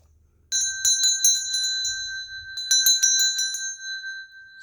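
A notification bell chimes in two bright bursts of several quick metallic dings each, ringing out clearly and alone against a quiet background.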